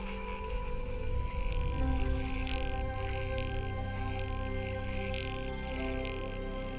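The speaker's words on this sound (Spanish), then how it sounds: "las ranas arborícolas hacen gala de su talento innato para cantar, al unísono, una sinfonía nupcial" A chorus of tree frogs sings through the night in a Mexican forest, steady layered trilling and pulsing calls with repeated high bursts, dense and continuous with no voices.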